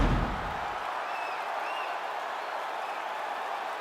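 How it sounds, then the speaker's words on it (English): Crowd applause and cheering after a round in the UFC 5 fight game, a steady, fairly loud wash of clapping and crowd noise lasting several seconds with no voices over it. "So the crowd voicing its appreciation after that round."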